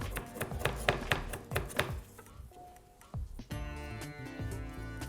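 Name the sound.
rough chopping of coriander with a knife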